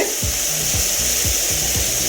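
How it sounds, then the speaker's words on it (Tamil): Tomatoes and onions sizzle steadily in a hot pan, with a rhythmic scraping of a spoon stirring about every half second. "தக்காளி, வெங்காயம் நல்லா வதங்கிடுச்சு."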